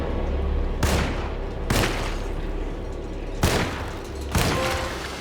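Gunfire from the video game Alone in the Dark comes as four sharp single shots spaced about a second apart over a low, steady game background.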